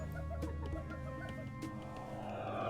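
Chickens clucking in the real-time strategy game Age of Mythology, a few soft short clucks scattered over a steady low game ambience, with no talking.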